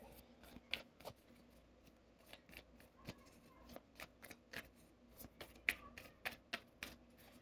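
Tarot cards being shuffled by hand, a soft rapid patter of riffles and taps, close and quiet, with no talk over it.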